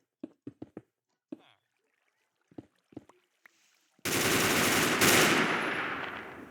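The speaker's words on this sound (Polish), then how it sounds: "Boże, jakie to głośny ten minigun!" A minigun in a video game first gives several scattered short shots, then opens into a loud, sustained roaring burst of rapid fire that fills the rest of the clip.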